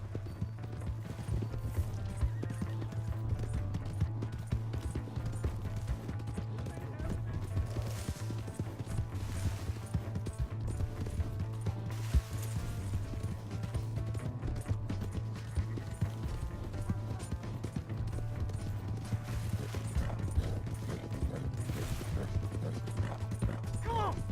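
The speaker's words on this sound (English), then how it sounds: "Hey, that's my horse!" Horse hooves clip-clopping in the video game Red Dead Redemption 2, a steady rhythmic trot under a constant low hum and mechanical rattling, with faint whinny-like bursts now and then.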